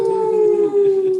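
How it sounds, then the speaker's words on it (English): A dog howls in a long, sustained wavering tone with a slight dip partway through, heard close and fairly loud during an evening music show at a retreat. "And Jasmine was howling."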